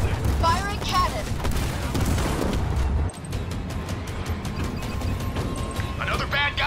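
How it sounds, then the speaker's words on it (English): Heavy booming cannon blasts and rapid gunfire crackle repeatedly in a busy Halo Wars 2 game soundscape, with short bursts of radio-style voice chatter. "Firing cannon."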